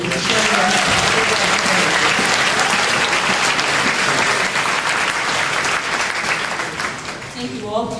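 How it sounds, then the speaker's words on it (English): Sustained applause from a large crowd, steady and dense for several seconds before gradually thinning toward the end. "One final round of applause to Jim Dawes and Dianna Shandy"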